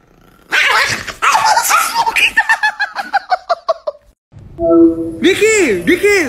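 A small Chihuahua yaps and growls, starting with harsh snarling barks and then a quick run of high, evenly spaced yips, loud and close, before a whining, yowling cry at the end.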